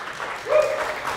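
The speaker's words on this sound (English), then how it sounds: "You can clap for him." A church congregation claps briefly during a sermon, a short burst of scattered applause with a voice rising over it.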